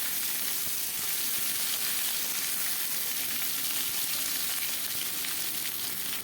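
Potatoes fry in a pan for Bengali aloo posto, a loud, dense, continuous sizzle that stays steady throughout, close up and with no voices.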